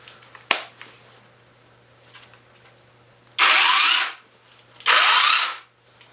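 A Hychika battery-powered mini chainsaw gives a few small clicks, then two separate loud, close bursts of high whining motor and chain, each running about a second before cutting off.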